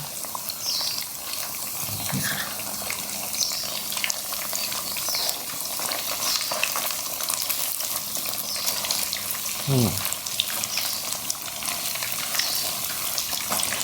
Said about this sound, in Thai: ทอดไปเรื่อยๆครับผม